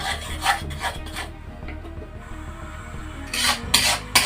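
Banana and beetroot halwa is stirred in a pan, giving rhythmic scraping strokes that start close and loud, pause for a quieter stretch, then return with a few sharp scrapes.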